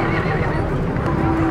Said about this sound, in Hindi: लो जनाब घोड़े को चलने